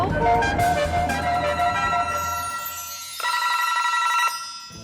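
A telephone rings loud and steady, its electronic bell sounding over a brief burst of background music and then alone.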